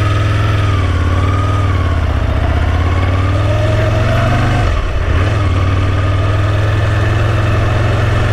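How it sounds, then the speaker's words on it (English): A car engine idles loudly and close up, a steady rough rumble with a brief stumble partway through before settling back. "The engine's very clunky."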